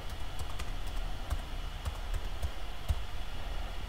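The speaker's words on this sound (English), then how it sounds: "And I'll type in the password." Someone types a Wi-Fi password on a computer keyboard: sparse, irregular keystroke clicks over a steady background hum, with no talking.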